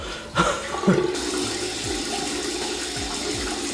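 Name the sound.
running water rinsing off face cleanser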